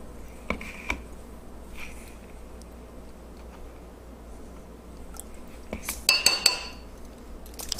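A spoon scoops yogurt into a bowl while making seeded sour no-knead bread, giving soft scraping, then a quick cluster of bright metal clinks against the bowl near the end, with no talking.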